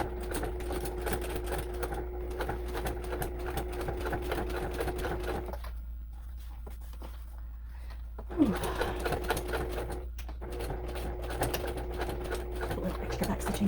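A sewing machine stitches stretch fabric with a rapid, steady mechanical hum and clatter. It stops for about two seconds, then restarts and runs on at the same even pace.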